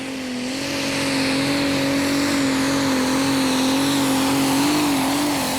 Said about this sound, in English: And the next tractor is Peach Tea from Finland